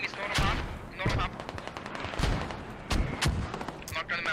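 Mortar blasts and rattling gunfire in a video game battle, with repeated sharp reports and bursts scattered across a continuous din of combat, loud and close with distant firing layered underneath.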